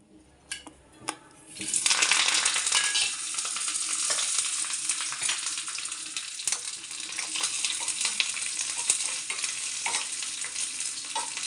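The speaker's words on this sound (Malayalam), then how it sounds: "മുളക് മാത്രം വറുത്തിട്ടാൽ മതി" A sudden loud hiss as chillies drop into hot oil, settling into a steady, close sizzle with occasional stirring clicks.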